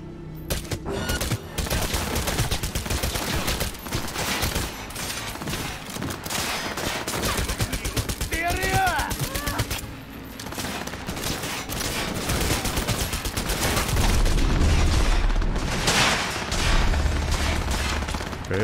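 Rapid gunfire bursts from a Cyberpunk 2077 firefight, dense continuous shots and machine-gun fusillades filling the whole stretch, loud and close with scattered impacts and a brief tonal effect midway.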